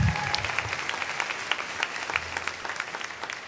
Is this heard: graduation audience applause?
yes